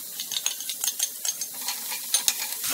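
Onions frying in hot oil with cumin and green chili, a soft sizzle under repeated close scraping stirs in a quick irregular rhythm.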